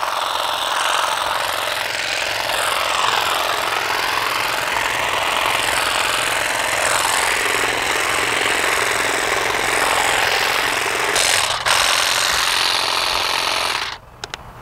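Saker cordless grass shears cut weeds along a fence with a continuous buzzing, rattling motor drone that holds steady and close for about fourteen seconds before stopping.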